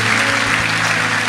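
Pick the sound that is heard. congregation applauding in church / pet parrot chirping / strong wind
congregation applauding in church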